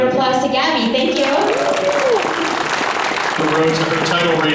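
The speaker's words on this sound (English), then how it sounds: "A round of applause to Gabby." A crowd at the 2019 Dallas Fan Days Q&A with a guest claps continuously, with voices and cheering layered over the applause for the whole stretch.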